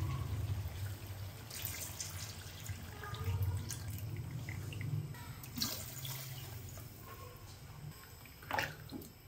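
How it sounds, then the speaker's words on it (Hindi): About two glasses of water are poured into a pot of yogurt-fried chicken panja for yakhni salan, a soft, intermittent splashing with occasional drips over a low kitchen hum. "अभी मैं इसके अंदर डाल दूंगा पानी तकरीबन 2 गिलास के करीब"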